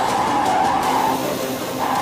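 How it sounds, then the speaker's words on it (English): Continuous tire squeal from a Bugatti Rimac electric hypercar sliding in a driving simulator, a steady loud screech over a low hum lasting the whole moment. "This car slides."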